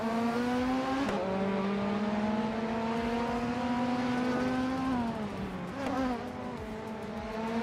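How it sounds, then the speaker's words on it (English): A 1991 Vauxhall Cavalier racing car engine, apparently from a video game, drones with a steady buzzing whine that dips and rises around shifts, revving continuously and loudly throughout with no voices. "Shoot 'em Up is driving a 1991 Vauxhall Cavalier Tonte."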